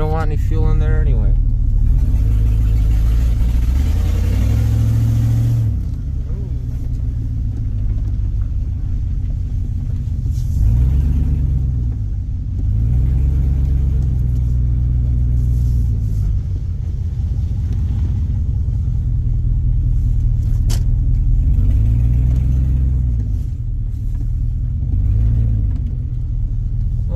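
A car engine runs throughout with a deep, steady rumble, rising in several swelling revs spaced every few seconds, loud and close, with a voice talking briefly over it near the start.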